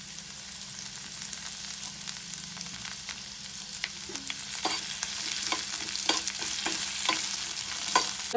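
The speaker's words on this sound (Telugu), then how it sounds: "ఆయిల్ వేడైన తర్వాత పొడుగుగా కట్ చేసి పెట్టుకున్న ఆనియన్ని కొద్దిగా ఫ్రై చేసుకోవాలి" Sliced onions sizzle steadily in hot oil, with a utensil stirring and scraping the pan in irregular knocks, growing busier toward the end. No voices.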